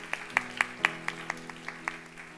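Scattered clapping from a young adult church congregation, a handful of distinct sharp claps at an uneven pace over a low sustained musical hum, fairly faint and thin.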